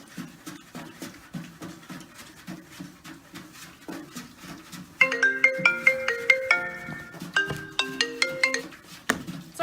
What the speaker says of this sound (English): Sorry guys, that's my phone.